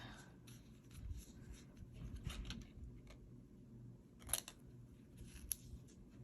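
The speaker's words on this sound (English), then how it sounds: "I'll be trimming these down here" Scissors trimming paper for a DIY balloon birthday card, faint close snips and rustles scattered irregularly, with a couple of sharper cuts toward the end and no talking.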